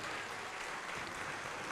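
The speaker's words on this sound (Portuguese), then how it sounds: "vamos aplaudir mais ao Senhor Jesus." A church congregation applauds in steady, dense clapping that fills the space without a break.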